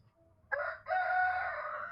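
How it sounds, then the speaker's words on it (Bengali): Chickens at a layer hen farm, with one loud, drawn-out crowing call that starts abruptly, breaks briefly, then carries on steadily over faint low background noise. "এই যে আমাদের লেয়ার মুরগির খামার"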